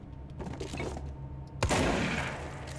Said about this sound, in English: I just like to shoot window.